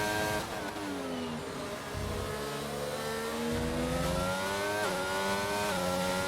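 An F1 22 race car engine at full throttle in a Brazil sprint race, a loud, continuous high-pitched whine with rising gear sweeps and brief shift dips, alone without talk.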